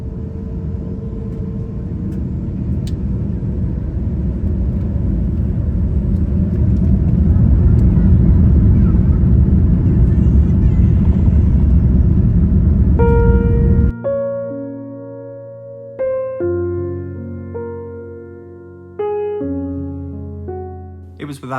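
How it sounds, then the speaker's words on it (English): A British Airways Airbus A380 on its takeoff roll from Heathrow, a loud, steady engine roar building for several seconds inside the cabin, then giving way to a spell of soft, clean tones with the rumble gone. "enjoy what was, and as ever, a fantastic takeoff on the Airbus A380"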